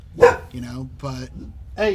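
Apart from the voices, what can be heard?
dog barking inside a house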